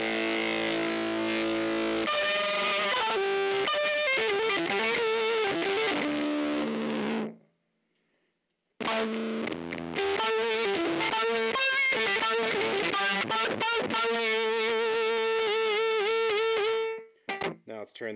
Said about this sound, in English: so you can hear just synthesizers going through the distortion